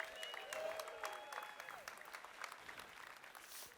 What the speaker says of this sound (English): Round of applause for Jay Simons